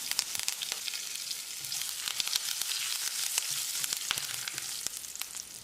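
Curry leaves fry and are stirred in hot oil with mustard seeds, cumin and asafoetida while a raw banana masala curry is made, giving a steady, close sizzle dotted with sharp crackles.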